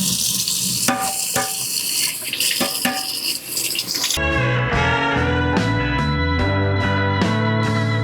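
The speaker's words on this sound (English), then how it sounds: "Next test, under running water." Running tap water pours steadily into a sink while eggs are peeled beneath it, with a few sharp knocks early on, then a constant close splashing flow joined by a tonal ringing layer.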